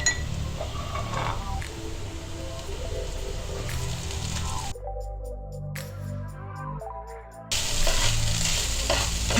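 Chicken pieces go into a pan of softened frying onions for a homemade chicken sandwich filling, with loud sizzling and frying, stirring scrapes and clinks, and a brief quieter pause before the sizzle surges back.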